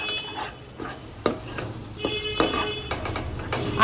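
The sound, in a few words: stirring ground spices into mutton korma in a pan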